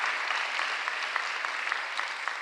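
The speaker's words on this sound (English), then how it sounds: "Give all of our elected officials a round of applause." An audience at Philadelphia's State of the City address applauds the elected officials, a dense, steady round of clapping with no pauses.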